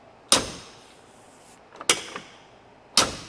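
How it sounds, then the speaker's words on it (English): A car door, its striker just adjusted, is slammed shut three times, each a sharp, loud, solid thud separated by quiet pauses, with faint mechanical rattles between. "Takes a little bit more pressure to shut the door than the other side."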